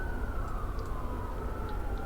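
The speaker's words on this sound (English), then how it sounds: "Also, lots of sirens." Several emergency sirens wail at a distance in a train simulator game, Train Sim 2020, at a Manchester rail route with a Class 158 train, steady and muffled beneath a continuous low rumble of the train.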